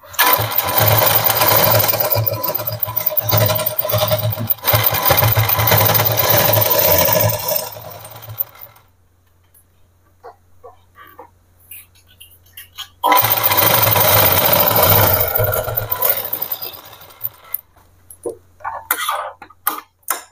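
Sewing machine stitching the finishing seam of an Afghani salwar: two long, loud, close runs of motor whir and rapid needle clatter, separated by a quiet stretch of light clicks and handling sounds.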